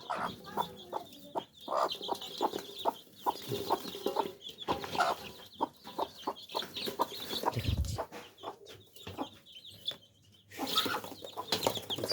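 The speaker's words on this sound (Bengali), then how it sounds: "আমাদের যে যে বেবি, মুরগির বেবি, এগুলা ডিম থেকে হয়েছে" Chickens cluck softly in short, scattered bursts around a hen sitting on her eggs, with faint wing flutters and quiet farmyard ambience in between.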